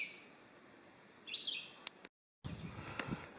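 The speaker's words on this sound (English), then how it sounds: "to the accompaniment of some nice bird sounds." A bird gives a short, high call amid quiet outdoor ambience, with faint chirps scattered around it and a brief silent gap.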